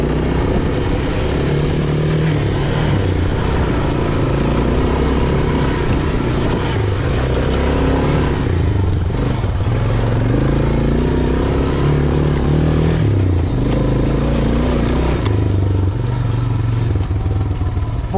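An off-road motorcycle with a freshly tuned carburetor runs at the Jones Creek OHV trailhead, its engine droning loud and close in a steady, continuous rumble for the whole stretch.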